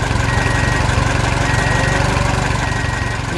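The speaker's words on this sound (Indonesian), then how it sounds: "Traktor besar membawa trailer penuh pohon." A large tractor engine drones steadily as it pulls a trailer loaded with trees on a farm. The running is loud, close and continuous, with a rough mid-pitched rumble and no talking over it.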